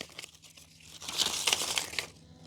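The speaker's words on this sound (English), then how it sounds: "we are down to the final few inches of taping the primary joists." Tape crinkles and tears as it is pulled and pressed onto the primary joists of a deck frame. The sound is a close, continuous rustle that swells in the middle.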